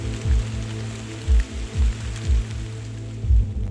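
Steady rain patters on surfaces along the Natchez Trace Parkway with a constant wash of water noise, and soft low thumps recur irregularly beneath it.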